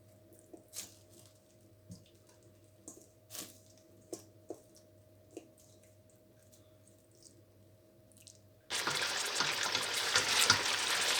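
Chicken karahi meat hits a cup of hot oil and breaks into a loud, dense frying hiss that runs to the end, after several quiet clicks and knocks of prep in a calm kitchen.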